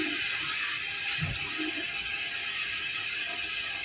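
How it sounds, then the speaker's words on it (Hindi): Water poured into fried masala in a cooking pot to start a gravy for a red kidney bean curry, a steady bright pouring and sizzling wash running close and loud throughout. "ये पानी हम इसमें थोड़ा सा डालेंगे और थोड़ी सी ग्रेवी बनाएंगे।"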